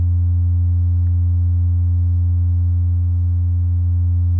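An S-CAT analogue bass synth holds a single deep, pure sine-wave tone, steady and loud throughout with a smooth humming quality and no voices.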